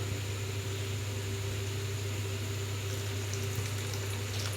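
A pot of vegetable soup simmers on the stove, giving a steady, continuous bubbling hiss with a low hum underneath, close and unchanging throughout, with no voices.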